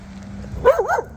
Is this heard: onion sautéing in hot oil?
no